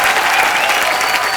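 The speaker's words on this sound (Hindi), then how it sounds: "आइए फिर जोरदार तालियां एक बार" Loud, dense studio audience applause on a televised comedy show, a steady burst of many hands clapping that fills the whole short moment.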